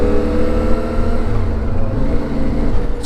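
A CFMoto 450MT motorcycle engine drones loudly and steadily on a ride, the pitch shifting slightly as it pulls along under wind noise.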